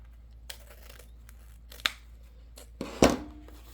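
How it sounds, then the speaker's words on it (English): Scissors snip through the tail of a wreath's material, a few sharp close cuts with the loudest near the end, against a quiet room. "I'm going to do my tail and cut this off here"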